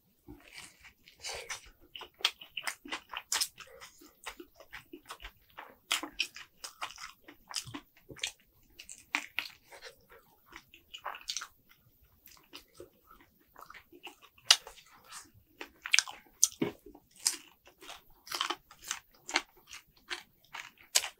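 Someone chews spicy fried chicken, a new menu item from a Korean chicken chain, up close and quietly, with repeated crisp crunching bites and wet chewing over about twenty seconds and no talking.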